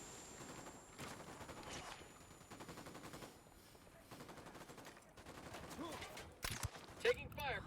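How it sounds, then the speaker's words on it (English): Gunfire in a Batman video game sounds in scattered bursts and single shots at a checkpoint and camp entrance, moderately loud, with voices and game sounds mixed in, and a sharper burst near the end. "Taking fire from the checkpoint."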